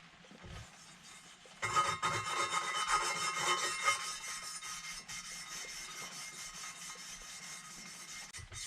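An engine valve from a Kawasaki Zephyr 750 is lapped into its seat with grinding paste, a soft, steady, gritty rubbing that starts abruptly and continues close and faint without talk.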